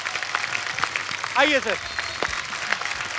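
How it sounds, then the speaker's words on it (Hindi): A studio audience at a Hindi comedy talk show claps loudly for the film's star cast, a steady wash of applause over a short burst of speech. "एक बार जोरदार तालियां हो जाए पूरी स्टार कास्ट के लिए।"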